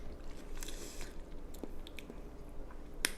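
Someone chews crunchy savory spaghetti close to the mic, with steady wet munching broken by sharp crunches and bites, no talking.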